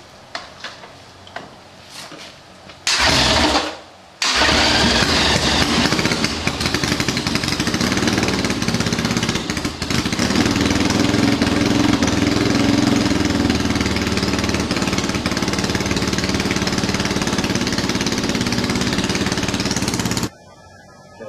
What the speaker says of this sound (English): you're just gonna start it and see if it runs good